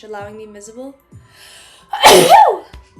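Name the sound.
sneeze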